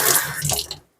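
Water is poured into pie dough for small hand pies, a brief close splashing trickle that stops abruptly after under a second.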